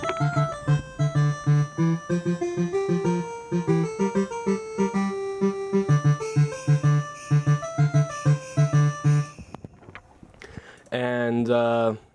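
A bright synthesizer melody from the Peach VST for a game soundtrack plays in quick stepped notes over a bouncing low pulse, loud and close, ending in a short sustained chord.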